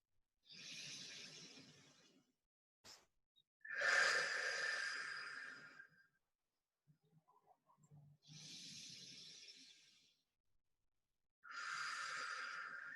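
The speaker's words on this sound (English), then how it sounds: "Take 2 deep breaths, breathing in through your nose and out through your mouth." Deep breaths drawn in through the nose and pushed out through the mouth during a flexibility class, two slow breath cycles of soft airy inhales and exhales, close and fairly quiet, with short pauses between them and no talking.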